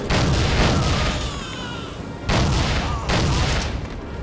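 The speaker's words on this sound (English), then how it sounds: "I like how he shot it out of his hand with a fucking hand cannon" Heavy handgun shots from a Desert Eagle hand cannon in the shooter game Soldier of Fortune, two or three loud booming blasts spaced about a second apart over a dense game soundscape.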